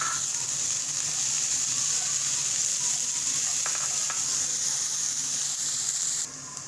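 Onions softening in a frying pan for aloo paratha sizzle steadily, a dense close hiss with a few light stirring scrapes. The sizzle drops away abruptly near the end.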